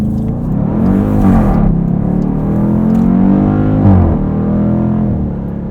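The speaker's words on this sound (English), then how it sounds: "A little bit of wheel spin from the front, but did the job." A 2020 Dodge Durango SRT accelerates hard out of a right-hand turn from a dig, its front wheels briefly spinning. The engine roar inside the cabin is loud and close, rising and falling in pitch, with no talking.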